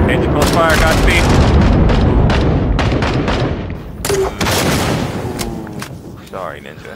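Napalm artillery strike in the Vietnam War shooter Rising Storm 2: Vietnam, a loud, continuous roar of explosions and rumbling fire with scattered gunshots, briefly easing then swelling again.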